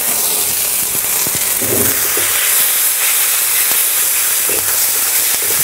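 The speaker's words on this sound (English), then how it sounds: "we're going to throw our garlic and ginger in here" Garlic and ginger sizzle in a hot pan for Mongolian chicken, a loud continuous hiss of frying oil with faint clinks and knocks of utensils, close and steady throughout.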